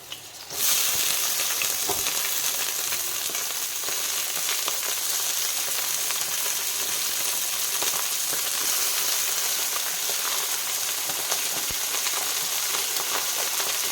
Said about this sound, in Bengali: এখন আপাতত বাঁধাকপি বসিয়েছি